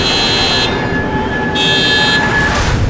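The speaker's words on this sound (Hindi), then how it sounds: "बहुत बार हॉर्न बजाया" A loud, sustained electronic buzzing tone, broken into two or three long blasts like a car horn, close and steady.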